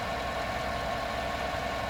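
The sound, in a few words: 5.3 V8 truck engine running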